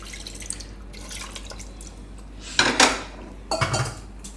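A little water splashes into a pressure cooker holding bitter gourds in a home kitchen, in two short close pours after quiet clinks of a metal pot.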